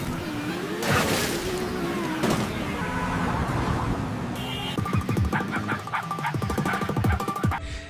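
A car in the racing video game Delicious Drift revs and slides, its synthetic engine tones rising and falling over the game's electronic beeps and effects.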